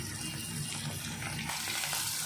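Pieces of rohu fish fry in oil, giving a dense, continuous crackling sizzle at moderate loudness throughout, close by and with no talking.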